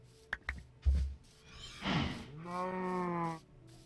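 Cows in a Minecraft FTB modpack lowing, a drawn-out moo near the middle and another longer one after it, moderately close, preceded by a few soft footstep-like thumps, no talking.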